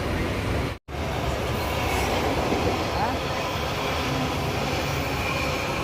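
Steady rumbling and clattering of a moving train in Mumbai, heard from inside, a continuous loud drone with one brief dropout near the start.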